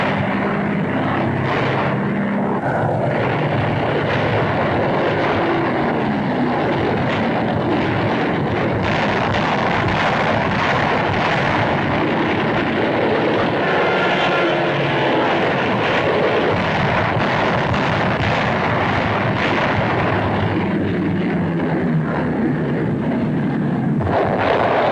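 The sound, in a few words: WWII Japanese warplanes attacking, with gunfire and explosions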